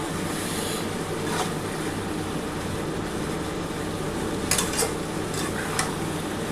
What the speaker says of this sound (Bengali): আগে প্রথমে এই মশলাটা দিয়ে কষিয়ে নিই একটুখানি।